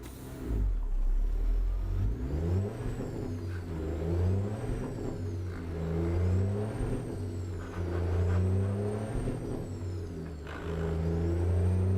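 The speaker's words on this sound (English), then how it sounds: "Can you hear my truck?" A truck running in a night convoy roars loudly and steadily, its engine rising and falling in repeated revving waves, with air-brake hiss mixed into the heavy mechanical drone.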